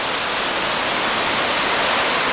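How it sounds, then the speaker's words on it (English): A waterfall on the Union Canal roars steadily below, a dense, continuous rush of falling water heard close and loud with no voices over it. "I think we'll be able to see the waterfall from here"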